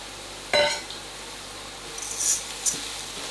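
Arborio risotto rice is stirred through a buttery onion mix in a pan, a few scraping and rattling strokes against a faint sizzle, close and quiet.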